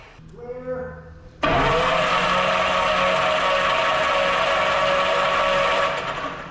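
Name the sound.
airplane piston engines cranking over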